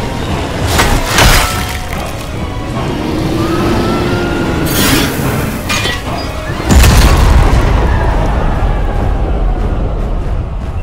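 Cannon fire in an anime sea battle with a ghost ship climbing a cliff: a loud boom around seven seconds gives way to sustained heavy rumble, with earlier sharp impact bursts and a busy soundtrack throughout.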